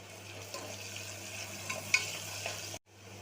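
Ginger, garlic and mint sauté in a pan for coconut milk rice, giving a faint, steady sizzle with soft stirring scrapes that cut out briefly near the end.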